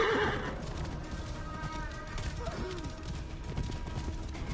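A horse in Assassin's Creed Origins gives a loud neigh at the very start, followed by its hooves clip-clopping and in-game ambience for several seconds.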